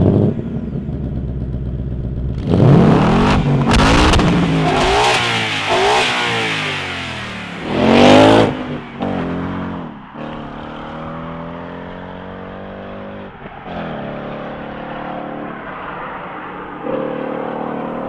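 Ford Mustang GT V8 roars loud and close, with sharp revs from standstill and then a sustained, rising and falling drone as the car passes at speed.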